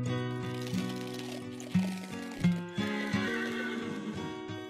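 A horse in Minecraft with the Mo' Creatures mod whinnies several times in loud, close, tonal bursts, with faint hoof clip-clop mixed in and no talking.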